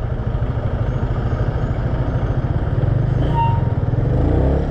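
A motorcycle engine idles steadily and close, a dense low rhythmic chugging with light mechanical clatter, running on alone with no talk over it.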